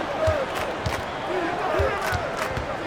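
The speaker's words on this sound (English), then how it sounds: "Listen to the crowd here." Arena crowd noise from an NBA 2K25 basketball game between Houston and Chicago, a steady roar of cheering running under an announcer's commentary, with sneaker squeaks and ball bounces showing through.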